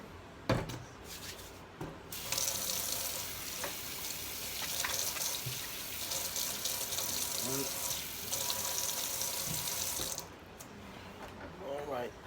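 Water runs hard from a kitchen tap into a sink while washing before cooking barbecue chicken wings: a steady, loud rushing spray for about eight seconds, with clatter and someone talking around it.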